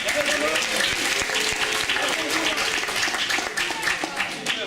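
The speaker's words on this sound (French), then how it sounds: "il faut applaudir" An audience breaks into steady, dense applause, loud and continuous throughout, with a few voices faintly mixed into the clapping.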